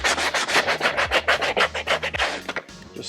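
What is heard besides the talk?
sanding plastic with 120 grit sandpaper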